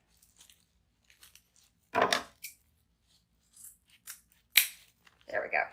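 Sharp scissors snip through black deco mesh ribbon to recut a dovetail end, giving a few brief crisp cuts near and clear, with quiet gaps between them.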